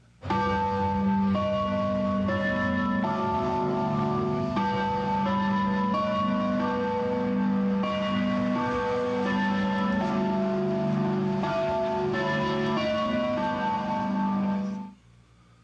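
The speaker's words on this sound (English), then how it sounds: "they had a sound engineer mix recordings of the original Taco Bell chime with Big Ben" Restaurant chime tones blended with Big Ben's great clock bells in London, a dense, continuous layer of sustained, ringing bell tones and harmonic strikes lasting about fifteen seconds, loud and close, with no talk over it.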